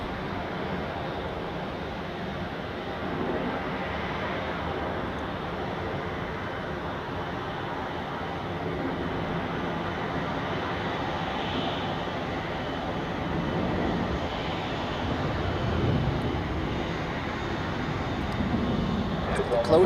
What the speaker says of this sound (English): here we have high-speed taxiing of a Swiss A330 out to Athens today